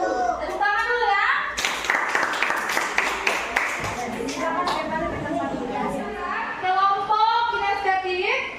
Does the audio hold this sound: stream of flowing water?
no